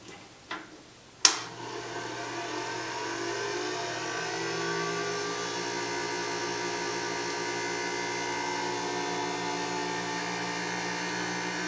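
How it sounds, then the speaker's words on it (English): A homemade electrostatic motor turned by a Van de Graaff generator: a couple of sharp clicks or sparks at the start, then a steady whirring hum with a rapid regular ticking, close and continuous, with no voices. "As the RPM on the Van de Graaff generator increases, so does the speed of the armature."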